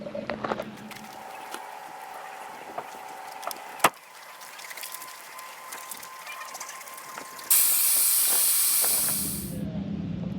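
Air rushes out of a Ford Bronco tire valve while the tires are aired down at an off-road area. A soft hiss with scattered clicks is followed by a louder, steady hiss in the last few seconds.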